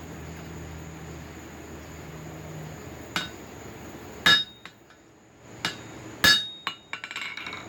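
A hot rivet head on slot jaw tong blanks being hammered out around its edges: a few sharp, ringing metallic strikes spaced irregularly, loud and close, with quieter clinks between and no talk.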